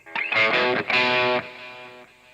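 A single strummed electric guitar chord rings out with a lush, spacious reverb tail that fades slowly over a couple of seconds.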